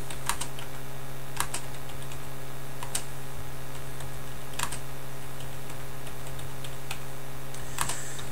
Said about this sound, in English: I'm going to type what I've heard